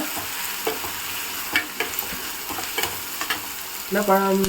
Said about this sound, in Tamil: இந்த 2 வெங்காயத்தை நல்லா பொன்னேரமாக வதக்கணும்.